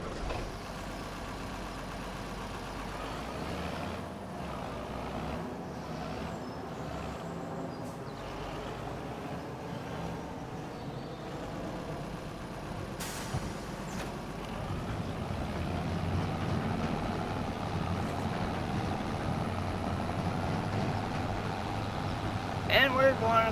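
Farm tractor engine running during harvest work, a low steady idling rumble close by that builds somewhat louder in the second half, with no talking.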